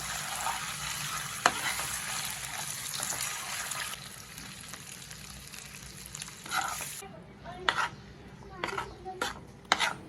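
Chopped boiled eggs are stirred into sizzling frying masala in a pan, with steady close scraping and sizzle, then a few sharp spoon clinks against the pan toward the end.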